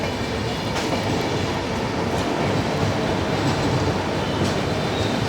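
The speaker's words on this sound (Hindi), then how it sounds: "एक और ट्रेन चेन्नई सेंट्रल अहमदाबाद" A passing Chennai Central–Ahmedabad train at a level crossing, a loud, close, continuous rumble of rolling carriages with faint clicking of wheels over rail joints throughout.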